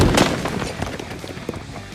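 A video game grenade explosion in Arena Breakout: a sharp explosive boom bursts at the start, followed by scattered crackling pops and small blasts fading over two seconds.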